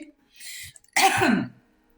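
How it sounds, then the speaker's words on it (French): A single throaty cough, close and fairly loud, preceded by a brief breathy sound, with silence after. "désolée, je tousse un peu."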